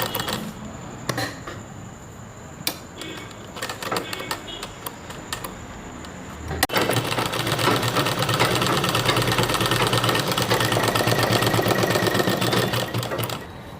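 A sewing machine stitches a V-shaped seam along the edge of a toddler's dress, running in a steady rapid whir that grows louder and denser after a quieter, intermittent start.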